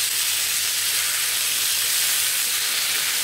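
Fish pieces coated in masala fry steadily in a pan, giving a loud, continuous sizzle and hiss that holds evenly from start to finish with no voices.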